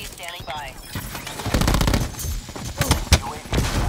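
SMG gunfire in Black Ops 4, rapid bursts of close shots mixed with game effects, rising louder in the second half, under an excited player talking over it.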